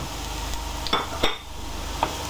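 Onion and garlic frying in a pan make a soft background sizzle with a few sharp clinks and scrapes of a utensil against the pan, heard up close without talk.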